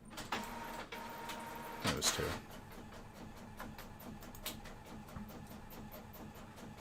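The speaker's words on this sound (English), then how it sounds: "The printer sounds like it's struggling over there." A printer grinds and whirs in short mechanical bursts that sound strained and laboured, with the loudest scrape near the start and a steady hum continuing in the background.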